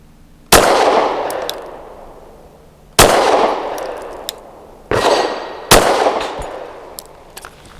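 A SAR 9C Gen 3 pistol firing 115 grain aluminum-cased ammunition, with four loud, sharp single shots spaced a second or two apart. Each shot rings with a metallic clang and tails off as it echoes around the range.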